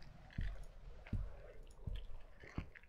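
A creature chews wetly while eating in the horror game From The Darkness, giving a slow rhythm of soft squishy bites and clicks, about four heavy chomps in three seconds, close and alone.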